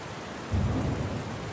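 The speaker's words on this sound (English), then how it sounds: "Let the rain be your companion as the story unfolds, weaving a spell of suspense and intrigue." Rain falling on a stormy night with a low rumble of thunder swelling in partway through, the downpour steady and close while the deep roll builds and fades beneath it.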